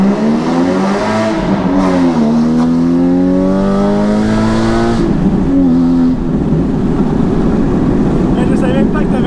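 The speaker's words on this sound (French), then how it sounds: "Je savais même pas que t'avais un launch control en mode manuel" A Porsche 981 Cayman GT4 launching on launch control with wheelspin: a loud, close engine held at high revs, then rising in pitch through the launch with tyres slipping, as a voice talks briefly over it.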